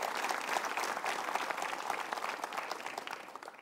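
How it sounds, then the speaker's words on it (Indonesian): Applause from a seminar audience fills the room, a sustained, dense clatter of many hands clapping at a steady moderate level without talk. "Kita berikan tepuk tangan dulu."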